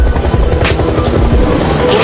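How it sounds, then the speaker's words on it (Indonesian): A helicopter in the TV series Resurrection arrives with loud, rapid rotor thumping and a dense engine whine, close and continuous throughout. "di tengah jalan sebuah helikopter datang."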